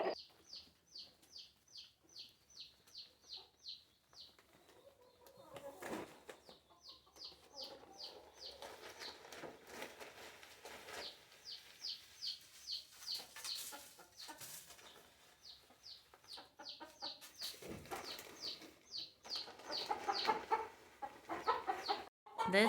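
Several chickens cluck in repeated bursts of short, rhythmic calls at close range, with scattered rustling and quieter pauses between the runs.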